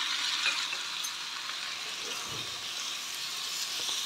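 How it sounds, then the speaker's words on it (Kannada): Chopped tomato and capsicum fry in a pan with a pinch of salt, giving a quiet, continuous sizzle with a soft stir partway through. "ಇವಾಗ ಉಪ್ಪನ್ನ ಹಾಕೋದ್ರಿಂದ ಟೊಮೊಟೊ ಎಲ್ಲ ಬೇಗ ಫ್ರೈ ಆಗುತ್ತೆ"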